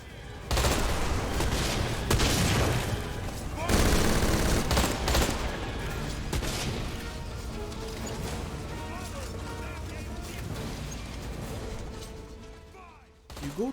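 Rapid bursts of gunfire crackle over a rumbling, clattering minecart in the video game Deadfall Adventures, dense and continuous at first, then thinning into scattered shots under a steady mechanical rumble.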